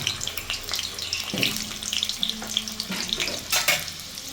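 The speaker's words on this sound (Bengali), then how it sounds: "এবার ওই কড়াইতে আরও কিছুটা রিফাইন্ড অয়েল দিয়ে আলুগুলোকে ভেজে" Potatoes frying in refined oil in a wok, a steady close sizzle with bright crackling spits and a few soft scraping stirs, no talking.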